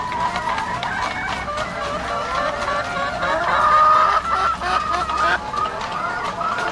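Several chickens cluck and chatter continuously nearby, a busy flock sound in a backyard setting alongside an aquaponics setup.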